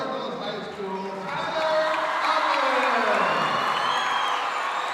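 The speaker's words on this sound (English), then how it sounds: "And now you'll hear this crowd respond to Tyler Alvarez." Crowd at a high school three-point shooting contest cheers and roars, swelling louder midway and staying loud to the end, with a few whoops over the din.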